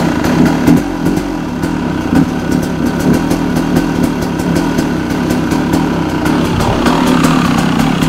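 A 2001 KTM 200 EXC enduro dirt bike engine runs steadily up close, a buzzy two-stroke idle with small rhythmic blips and a constant mechanical rattle, with no talking.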